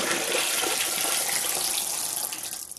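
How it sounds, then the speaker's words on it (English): Water pours out of a bowl into a sink in one steady rushing splash lasting a few seconds, close and fairly loud, with no talking. "I just dump this water right out."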